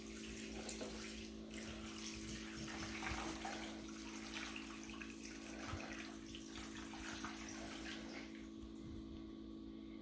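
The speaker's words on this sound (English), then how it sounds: "I'm just gonna pour the rest of the stock through the strainer" Hot vegetable stock pours steadily through a strainer into a big container, a continuous close liquid rush and splash that runs unbroken throughout, fairly quiet with no voices.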